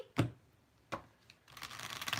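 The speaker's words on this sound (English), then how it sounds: "Not done shuffling, though." A deck of tarot cards is shuffled at a reading table, a few soft separate flicks followed by a longer riffling rustle, quiet and close, with no talk.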